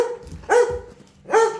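A dog in training gives two short, sharp barks close by, roughly a second apart, with quiet pauses between them and no talking.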